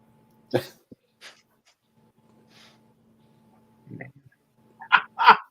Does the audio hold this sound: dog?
yes